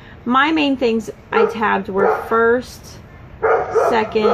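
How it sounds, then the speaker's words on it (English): A dog yips and barks in the background of a room while a person keeps talking, with the barking coming through the speech in short repeated bursts. "Sorry for the dog."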